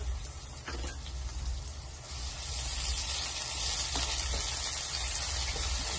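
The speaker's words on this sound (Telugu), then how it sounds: "ఆనియన్స్ వేగాక అల్లం వెల్లుల్లి పేస్ట్ ఒక స్పూన్ వేసి" Ginger garlic paste fries with onions in a pan, giving a steady, fairly quiet sizzle that builds slightly, with a few faint stirring taps and no talking.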